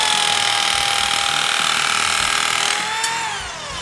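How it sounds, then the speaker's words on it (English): Bad Dog Biter pipe notcher cutting a notch in metal pipe, driven by a drill: a steady, loud whine with a rising pitch that drops as the cut finishes and the motor winds down. "Notch the other side."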